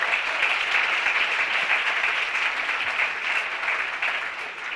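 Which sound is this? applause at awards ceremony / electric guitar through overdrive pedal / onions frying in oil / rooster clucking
applause at awards ceremony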